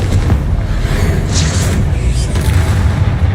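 A Confringo spell explosion in the video game Hogwarts Legacy, a loud, dense rumbling boom that fills the whole stretch with steady low roar and a few brighter crackling bursts near the middle, with no talk.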